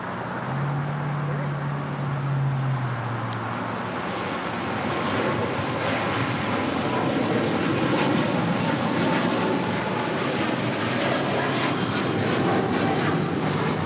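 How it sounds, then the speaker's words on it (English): A Cathay Pacific Boeing 777-300ER jet rolls down the runway at LAX for takeoff, its engines a loud, steady broadband roar that holds and swells slightly throughout, with a low hum briefly at the start. "Cathay Pacific Flight 885 heading back to Hong Kong in the 777-300ER, now rolling down 25 right."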